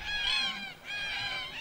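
A red-tailed black cockatoo gives two harsh, raucous calls, each drawn out and close by, separated by a short pause, with no other sound around them.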